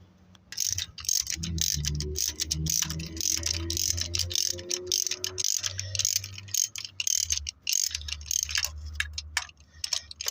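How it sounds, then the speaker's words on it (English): A large ratchet on 13 mm alternator bolts of a Ford Bantam Rocam engine, clicking in a rapid, steady run of sharp close ticks under a low motor hum, with no talking. "So I'm gonna use big ratchet here."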